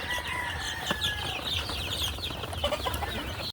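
Chickens cluck and squawk close by around a newly built chicken coop for an egg-laying flock, in a busy overlapping chorus of short calls.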